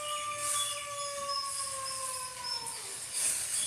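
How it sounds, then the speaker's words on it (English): A recorded wolf howl plays back, a long smooth rising-then-falling tone sustained for several seconds and gently sliding down at the end, moderately faint and alone. "it's cool to hear a wolf howl."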